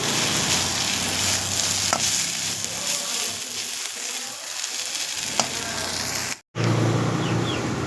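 Jute leaf greens stir-fried in a pan, a steady broadband sizzle with scattered scraping stirs, close and fairly loud, with a brief dropout near the end before the frying resumes.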